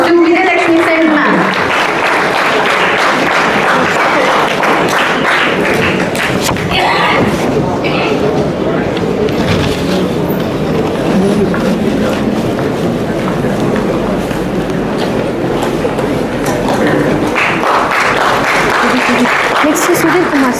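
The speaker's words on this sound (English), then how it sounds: "Please give a big round of applause to Vijaya Lakshmi Sen ma'am." A large audience at the TEDxSriSairamIT event gives a speaker loud, sustained applause. The clapping runs continuously for about twenty seconds, with voices and occasional thumps mixed in.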